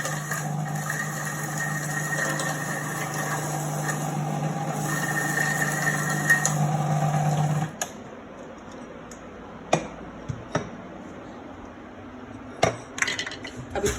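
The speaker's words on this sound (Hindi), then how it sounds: "क्योंकि इसमें मुलट्ठी है तो मुलट्ठी थोड़ी सी टाइट पिसती है," An electric grinder whirs loudly as it grinds kaadha spices with liquorice root (mulethi), then stops; afterward come brief clicks and knocks of handling the jar.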